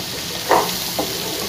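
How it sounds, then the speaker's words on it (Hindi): Chopped onions, four large ones, dropped into a hot pan for bitter gourd curry and stirred, giving a short burst of sizzling followed by a softer second crackle, alone with no talk. "प्याज डालने के बाद मैंने 5 मिनट मीडियम आंच पे रख के इसको भुना है।"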